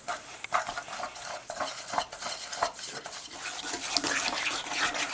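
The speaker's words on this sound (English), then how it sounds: "We are going to mix this up just until it is combined." A whisk beats cheesecake cookie filling in a bowl, giving quick, busy clicks and scrapes against the sides that grow denser and louder toward the end, close up with no voices.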